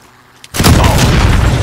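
A planted charge detonates in Call of Duty: Modern Warfare, a sudden loud blast after a moment of near silence. A sustained roaring rumble follows right up close.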